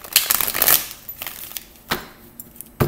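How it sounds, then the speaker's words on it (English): Deck of tarot cards being shuffled by hand, a quick burst of crisp riffling followed by a few sharp, isolated card taps and slaps, close and fairly loud. "Let me shuffle these cards."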